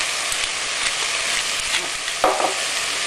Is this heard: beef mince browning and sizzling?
yes